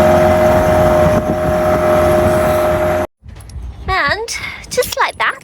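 Small low-powered boat engine chugging steadily on the tidal River Thames, loud and close with wind buffeting, then cutting out abruptly before voices speak.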